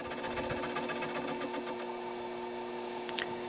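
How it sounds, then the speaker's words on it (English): A milling machine makes a conventional cut on a workpiece while building a strap clamp. A steady mechanical whine and hum with a faint rhythmic chatter runs throughout at moderate level, with no talk. "So in this feed direction, on this side of the workpiece, I'm doing a conventional cut."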